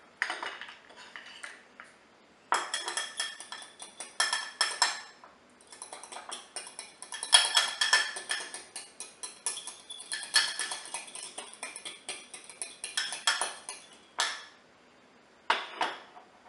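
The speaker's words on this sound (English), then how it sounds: "Next, I'm going to beat this egg." An egg is beaten in a bowl with a utensil, giving bursts of quick, light clinking strokes that stop and restart in several runs, close and fairly crisp, with no talking.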